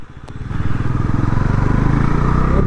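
A Bajaj Pulsar NS 400Z motorcycle engine pulls hard toward 6000 RPM while riding, its loud, steady rumble climbing and holding with a rapid pulsing beat, close up and without talk.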